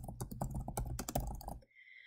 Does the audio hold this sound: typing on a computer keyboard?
yes